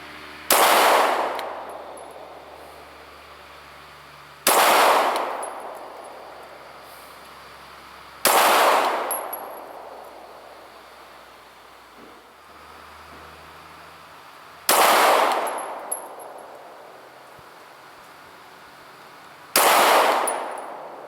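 Five sharp, loud 9mm shots from a Walther PPS pistol fired at 3 yards, each a close crack followed by a short decay, spaced roughly four to five seconds apart with quiet between them.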